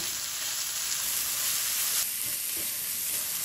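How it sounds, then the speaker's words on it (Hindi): Potatoes and minced meat fry in a pan for a keema kachori filling, giving a steady, even sizzle that stays at the same level throughout with no talking. "अब आलू डाल के तो हम 1 मिनट 2 मिनट इसकी भुनाई करेंगे, बस इससे ज़्यादा नहीं।"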